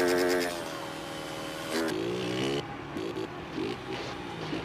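A Honda Titan 160 motorcycle fitted with a can exhaust rides along a short dirt trail, its engine note rising and falling through gear changes, fairly close and steady throughout.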